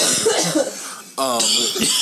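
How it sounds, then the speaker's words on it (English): A person coughs hard after choking on water, a short harsh burst of a few coughs following some faint talk, close and loud. "I thought I was going to cough the water out"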